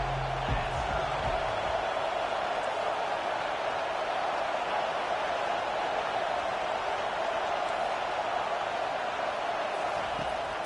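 A stadium crowd in an American football video game keeps up a continuous, even roar and murmur, with a brief low thud at the start.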